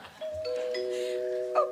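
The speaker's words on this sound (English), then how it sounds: "I think I'll just go answer the doorbell." A doorbell chimes, giving two clear sustained ding-dong tones that overlap and ring out, close and prominent, with a faint thump near the end.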